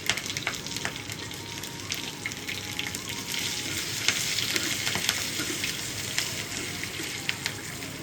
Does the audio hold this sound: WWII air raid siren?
no